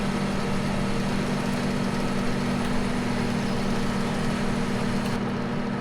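A big tractor engine runs in Farming Simulator 17, holding a loud, unbroken low hum with a rough mechanical buzz, steady from start to finish with no voices.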